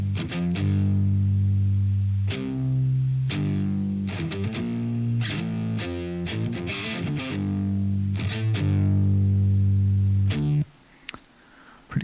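An electric guitar runs through an octave pedal into an Archetype Abasi amp sim, chugging heavy distorted rhythmic chords with stops and stabs, loud and close, then cutting off abruptly near the end.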